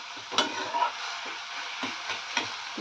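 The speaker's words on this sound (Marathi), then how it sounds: "एक दोन तीन मिनटं चांगलं परतून घ्यायचं" Spring onion greens frying with masala in a pan, a soft continuous sizzle with occasional stirring scrapes, fairly quiet and close.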